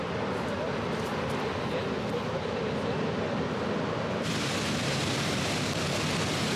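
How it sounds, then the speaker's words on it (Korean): Dense spray from Victoria Falls pouring down like heavy rain, a steady loud hiss of falling water that brightens and intensifies partway through, with no voices. "동쪽 폭포에 이르니 빗방울처럼 물보라가 쏟아져 비옷을 입고"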